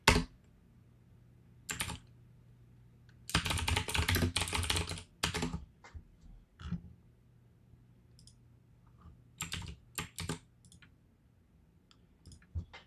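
Bursts of typing clatter on a computer keyboard during a login, close and crisp, with quick runs of keystrokes separated by quiet pauses and a few isolated clicks.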